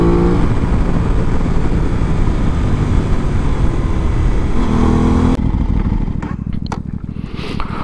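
A 2024 Aprilia RS660 sport motorcycle, loud and close, with a sustained engine roar that cuts off abruptly partway through, leaving a quieter idle and rumble behind.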